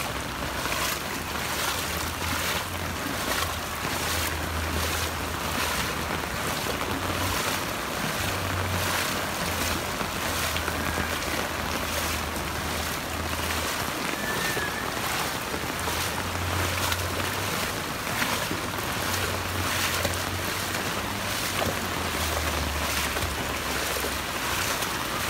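Floodwater from a light flood after a hailstorm drains through a street channel near a roundabout, giving a continuous rushing wash with low rumbling surges and no voices.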